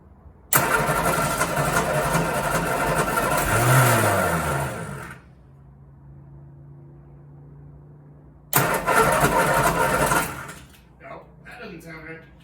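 A car engine fitted with SU carburetors cranks in two long bursts while given gas, loud and rough, with a quieter pause between attempts and no clean start.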